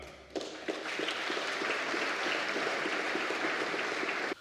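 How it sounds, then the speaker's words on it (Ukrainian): Sustained loud applause from a large audience in a parliamentary hall during a speech about NATO, a dense continuous clapping that starts abruptly and stops sharply about four seconds later. "Ну и опять бурный аплодисмент"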